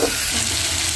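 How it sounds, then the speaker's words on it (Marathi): Garlic frying in hot oil in a pan, a close, dense, continuous sizzle over one brief second with no speech. "चांगलं तळू देतोय लसणाला मस्त."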